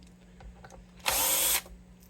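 Power drill driving a screw into a guitar: one short, steady whir lasting about half a second, close and fairly loud over a faint electrical hum.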